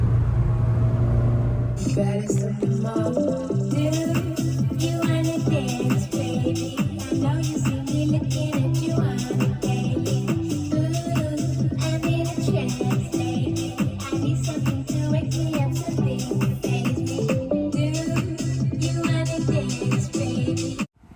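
A BMW E30 drives along a road, its engine and tire rumble steady and loud from inside the car for about twenty seconds, with music playing over it.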